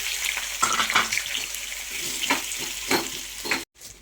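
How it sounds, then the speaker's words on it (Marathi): Hissing, crackling sizzle of flattened rice (poha) frying in hot oil in a pan, continuous with bursts of louder spattering, ending in a sudden cut to quiet. "आता हे यामध्ये आपण फ्राय करून घेऊया"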